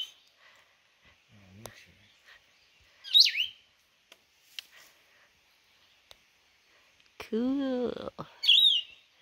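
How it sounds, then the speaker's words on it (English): Small wild bird along the Appalachian Trail calling while eating a moth, giving sharp scattered chirps and a short rapid chattering run outdoors, with a brief remark from a person nearby. "This bird right here is going to town on a moth."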